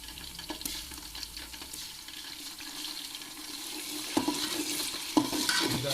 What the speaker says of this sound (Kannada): ಲೋ ಫ್ಲೇಮಲ್ಲಿ ಈ ಥರ ಕೆಂಪುಗೆ ಆಗೋವರೆಗೂ ಈರುಳ್ಳಿನ ಬಾಡ್ಕೋಬೇಕು